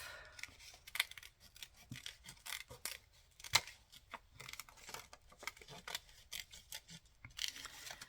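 Scissors snip through the top of a journal cover, made of paper or card, for a vintage botanical journal. Quiet, scattered cuts and rasping rubs come close up, with sharper snips near the start and middle and no talking.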